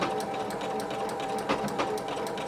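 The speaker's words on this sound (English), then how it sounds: "the right side of my fabric against my sewing machine, and I'm just going to go ahead and use that stitch and begin sewing" A sewing machine stitches a blind hem on dress pants, running with a fast, steady mechanical whir and rhythmic needle clatter, close and continuous throughout.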